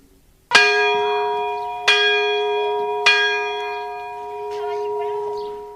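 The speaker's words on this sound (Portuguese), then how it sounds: "Um dia, o sino da igreja tocou afinados." A church bell rings three loud, resonant strikes at steady intervals, each leaving a long, ringing decay that fades into quiet hum.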